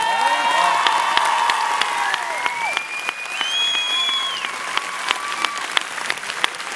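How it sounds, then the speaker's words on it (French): Audience applause and cheering for actor Omar Sy at a film premiere of Samba at a UGC cinema, loud sustained clapping with whoops and a rising whistle. "Et on peut applaudir, mesdames et messieurs,"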